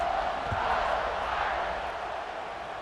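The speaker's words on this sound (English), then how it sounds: "this crowd is buzzing after that last score" Low and steady, a stadium crowd in the College Football 26 video game keeps up a broad, distant murmur after a score, with no single voice standing out.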